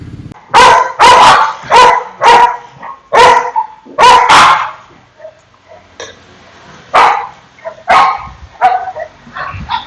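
Several dogs bark loudly and close by outdoors, a burst of repeated sharp barks with short pauses between, followed by scattered quieter yips and barks.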